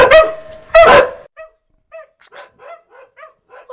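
Dogs bark loudly and close by, two strong barks followed by a series of fainter yips and whimpering barks in an irregular rhythm.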